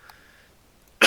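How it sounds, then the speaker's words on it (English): One short, sharp cough from a person bursts out loudly at the end after near silence. "Why am I coughing right now?"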